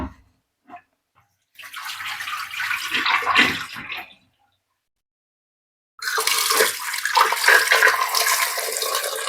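Potatoes are being washed in a vessel of water, two separate bursts of loud sloshing and splashing a few seconds long, close by, with near silence between them.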